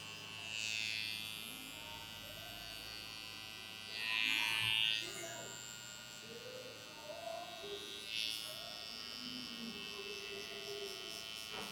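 Electric foil shaver trimming the lower part of a low fade haircut, a continuous buzzing hum with brief louder surges as the blade meets hair, and faint speech underneath.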